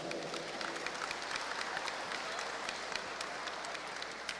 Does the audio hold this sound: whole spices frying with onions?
no